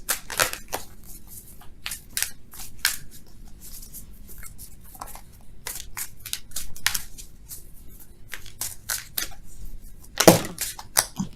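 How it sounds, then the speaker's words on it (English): Quick bursts of crisp, papery clicks and flutters as tarot cards are shuffled close by, with brief pauses between riffles and one louder snap near the end. "Let's shuffle for real, though."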